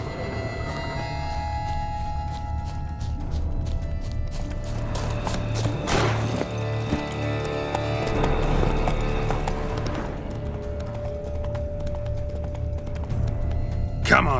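Horse hooves clip-clop along a road in The Witcher 3 video game, a steady trotting rhythm under game music and occasional character dialogue.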